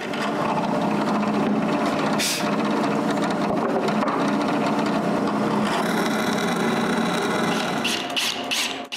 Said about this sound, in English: And drill one hole in each corner.